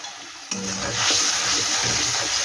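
Ground spices, coriander and turmeric, frying and being stirred in a pan for a puffed-rice ghonto dish: a steady sizzle with a scraping stir starting abruptly, continuous and close.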